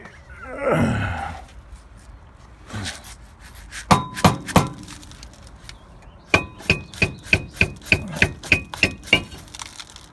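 Metal hammer blows striking the front strut of a 2003 Ford Crown Victoria, a few hard clanks at first, then a rapid run of about a dozen evenly spaced ringing hits, close and loud.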